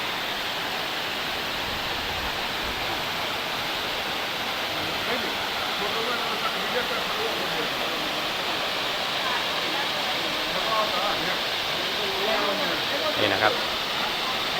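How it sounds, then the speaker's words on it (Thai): A steady, broad roar of a large waterfall at Phlio Waterfall National Park, Chanthaburi, falling from high above, fills the whole stretch, constant and loud, with faint voices surfacing briefly beneath it. "น้ำตกเขาก็จะไหลมาจากด้านบนนู้นนะครับ"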